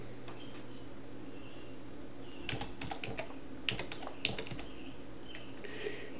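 Someone types steadily on a computer keyboard, producing irregular clusters of soft key clicks, close up and with no talking.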